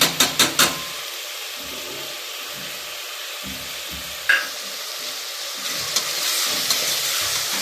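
Spices such as garam masala and turmeric, then coriander and mint leaves, fry in a pan for tomato bath, giving a steady close sizzle and hiss that swells toward the end after a few quick utensil clacks at the start.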